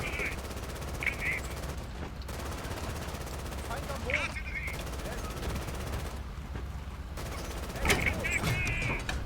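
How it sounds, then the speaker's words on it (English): Easy Red 2 battlefield combat: steady gunfire and shell fire run throughout, with bursts of machine-gun fire and brief radio-like voice chatter over a constant low rumble. "There, just fire a bunch of shells in there."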